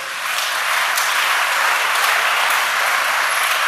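A church congregation applauding during a service: dense, loud, continuous clapping from a large crowd, sustained evenly throughout without any talk.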